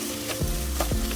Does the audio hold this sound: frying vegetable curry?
yes